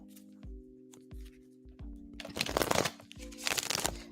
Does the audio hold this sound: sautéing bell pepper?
no